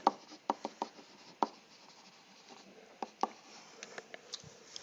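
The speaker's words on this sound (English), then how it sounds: "I suppose I ought to take the time to write that down somewhere" Pen or pencil strokes scratch across paper as notes are written by hand: quiet, close, irregular ticks and short scribbles in a calm room, with no speech.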